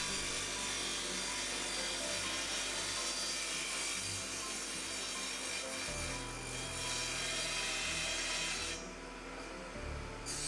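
Hand sawing through an IKEA chest of drawers being cut down, a continuous rasping back-and-forth of teeth in wood, close and loud, shifting in tone partway through with no voices.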